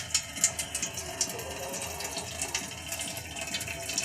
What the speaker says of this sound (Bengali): আমি এখন এগুলাকে আস্তে আস্তে ঢেলে নিচ্ছি।